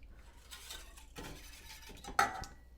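Hershey's cocoa being stirred into champorado, a Filipino chocolate rice porridge, with soft scraping spoon strokes against a pot and a sharp clink of utensil on metal near the end, close and fairly quiet.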